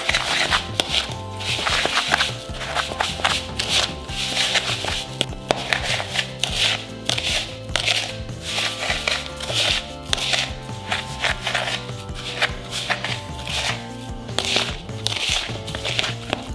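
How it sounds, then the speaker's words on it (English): Coarse black pepper being whisked into a dry brine mix for salmon in a bowl, heard as a steady run of quick, rhythmic scraping taps at close range with no talking. "we're gonna go ahead and whisk this together."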